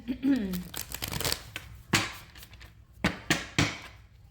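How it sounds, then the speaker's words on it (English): Tarot cards being shuffled by hand in a series of crisp riffling and slapping bursts, the card noise interleaved with nearby talking. "This is my 4th shuffle."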